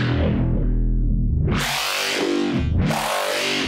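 A gritty, distorted wavetable synthesizer tone swells and sweeps in bright bursts, its timbre shifting and pulsing with heavy modulation, including amplitude modulation for widening, and no voices.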